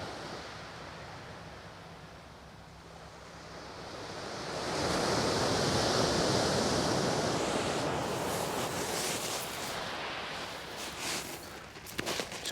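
Sea waves surging and washing onto the shingle of Chesil Beach in Dorset, a steady roar that swells louder midway and stays broad and close, with wind buffeting the microphone and no talking.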